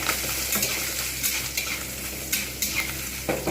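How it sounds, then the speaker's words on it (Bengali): Pieces of coconut frying in oil in a pan while being stirred, a steady close sizzle broken by light scraping strokes of the spoon every second or so, with no voices. "এইবার এতে আমি নারকেলগুলো লালচে করে ভেজে নেব।"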